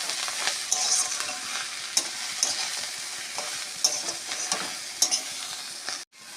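Water spinach fries in a pan and is stirred, giving a steady hiss broken by repeated light scraping clicks of the spatula, close and alone, before a brief drop to near silence at the end.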